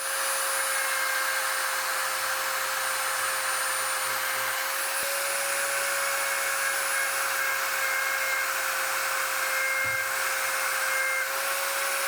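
A rotary tool spins at high RPM polishing a Glock trigger, a loud, continuous whine that holds steady throughout, with a faint low hum beneath and a couple of brief clicks or bumps.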